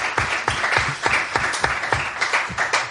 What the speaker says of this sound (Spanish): ¿Se escuchan los aplausos?